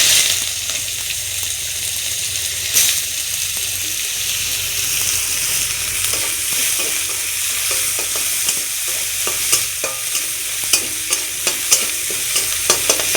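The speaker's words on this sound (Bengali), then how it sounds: "এবার দিয়ে দেবো পেঁয়াজ।" Onions frying in hot oil with dried red chilli, bay leaf and cumin, stirred in a pan: a steady close sizzle with repeated scraping clinks of the spoon, no talking.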